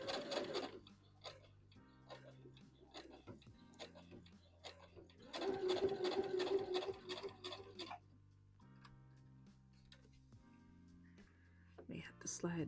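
A sewing machine stitches a Vogue V2000 wrap dress in quiet bursts, with a louder, steadier run in the middle under soft background sounds.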